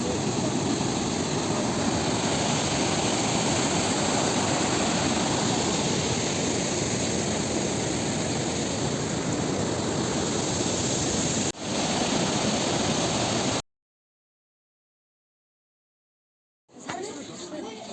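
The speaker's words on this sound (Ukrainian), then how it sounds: "Яремчик це водоспад пробій." Probiy waterfall in Yaremche, a steady, dense rushing roar of falling water heard close and loud, holding constant for about thirteen seconds before cutting out briefly and resuming.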